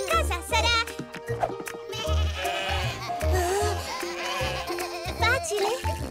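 Cartoon sheep bleat repeatedly in a children's tractor adventure, short wavering cries over bouncy background music, with a child-like voice speaking in between.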